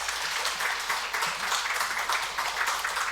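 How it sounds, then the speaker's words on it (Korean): A church congregation at Sunday worship applauds to welcome a visiting seminary preaching professor, a steady, even patter of many hands clapping that continues without pause. "박수로 환영하도록 하겠습니다."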